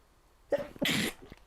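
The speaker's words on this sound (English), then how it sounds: "oh, hold on, I'm going to sneeze." A short breath in, then a single sharp, explosive sneeze, close and sudden, with a small sniff after.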